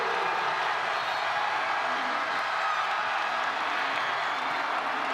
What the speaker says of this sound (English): And this crowd comes to life.